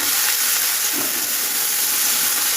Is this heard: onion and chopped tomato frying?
yes